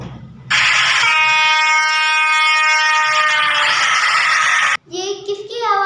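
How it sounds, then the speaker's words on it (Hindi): Passing train with a long, loud sustained horn blast over rumbling wheels, nearby, ending abruptly before a short different horn-like tone follows. "ये ट्रेन की आवाज़ है।"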